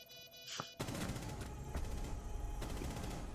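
Dense, continuous gunfire in a first-person shooter match, a sustained rattling burst of automatic weapon fire that starts abruptly after a brief sharp shot and stays loud to the end, with a few heavier cracks standing out.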